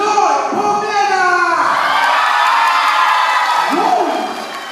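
A crowd at a Hermano Night party event erupts in loud, sustained cheering, with shrill whoops and yells rising over a dense roar of voices before tapering slightly at the end.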